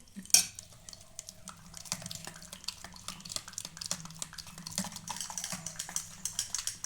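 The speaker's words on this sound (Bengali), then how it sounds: "দুধটা দিয়ে আমি আবার ভালো করে আরেকটু মেখে নেব।" Bread batter being mixed by hand after a little milk is added, for a bakery-style sweet made from bread slices: soft irregular scraping and clinking of a spoon against a bowl, a sharp knock near the start, fairly quiet and steady.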